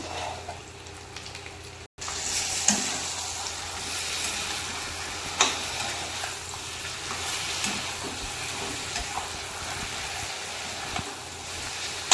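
Gongura chicken cooks in a pan after coriander powder is added, a soft continuous sizzle with occasional stirring scrapes and clicks, close but fairly quiet.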